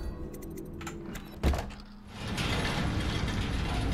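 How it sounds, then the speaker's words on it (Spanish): A crossbow being reloaded in Dishonored: a run of mechanical clicks and ratcheting, then a solid thunk, followed by a wash of ambient game noise. "vamos con la recarga de la ballesta"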